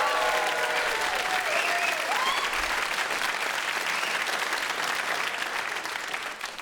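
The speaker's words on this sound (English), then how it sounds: "How about a round of applause for the comedians who are out here?" An audience at a stand-up comedy special applauds, a sustained wash of clapping and crowd noise, with faint voices and whoops rising above it, tapering slightly at the end.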